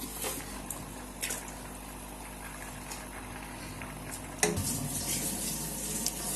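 Water pours steadily into a pot of beef yakni pulao, about 4 liters, with a continuous splashing rush that grows a little louder near the end.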